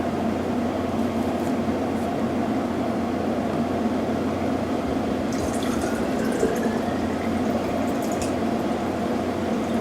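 Water streams steadily into a glass for several seconds, a continuous close filling sound without talk.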